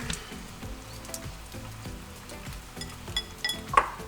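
Scallops frying in a pan with lemons, giving a soft, steady sizzle and crackle close by, with occasional light clinks of cookware and no talking.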